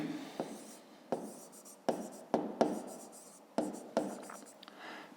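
Pen strokes on paper during a 5th-grade maths lesson on rectangle perimeter, a soft steady scratching with sharper taps as each stroke begins, close and quiet, with no talk.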